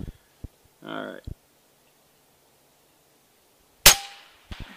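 Single sharp crack of an Airmaks Arms Krait X .22 caliber air rifle firing Zan slugs, loud and close, preceded by a short voice and a few clicks, with a brief ringing tail afterward.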